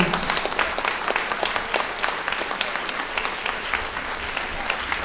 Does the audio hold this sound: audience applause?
yes